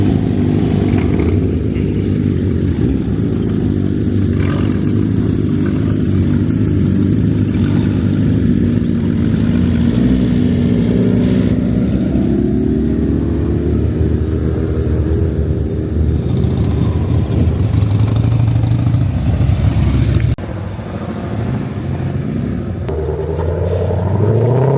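Porsche sports cars drive around a car show, giving a close, sustained engine rumble with a rev that climbs and falls midway before settling back to a lower idle-like drone.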